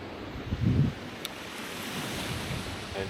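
Mediterranean Sea waves near Valencia, by the Albufera lagoon, with a soft surf wash swelling briefly then settling into a steady wind-blown rush, close and alone without voices.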